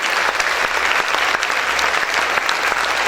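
Loud, dense applause fills a church as the congregation claps for the Lord during a Spanish-language worship service, a continuous roar of many hands sustained throughout without pause.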